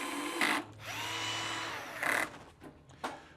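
A powered screwdriver set to low torque driving screws into the case of a Vevor 50A plasma cutter, close whirring bursts with short gaps and a few clicks of the tool between runs.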